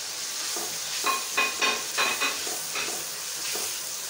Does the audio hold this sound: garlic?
yes